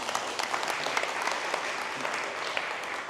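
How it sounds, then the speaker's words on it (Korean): An audience at a lecture-hall talk claps together in a brief, dense round of applause, many hands close together for about three seconds with no talking. "박수 한번 쳐보세요."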